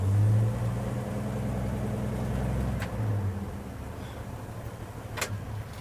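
A 1952 Chevrolet pickup truck engine idles steadily at close range, a low continuous rumble with a brief rev near the start, heard alone with no talk.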